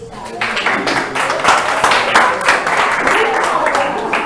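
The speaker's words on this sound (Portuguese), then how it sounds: "Você pode dar um aplauso a Jesus?" A church congregation at a family worship service breaks into sustained applause, a dense wash of many hands clapping loudly and close for several seconds, with some voices mixed in.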